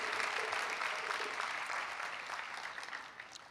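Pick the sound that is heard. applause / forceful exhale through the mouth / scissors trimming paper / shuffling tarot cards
applause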